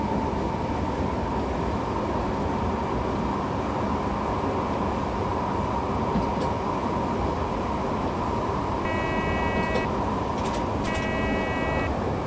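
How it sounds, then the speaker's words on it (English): A BR420 electric train running on the Cologne–Dusseldorf line in Train Simulator: a steady, loud rumble and roar of wheels and motors throughout, with a few faint high beeping tones near the end and no talk. "Sounds like an old tube train."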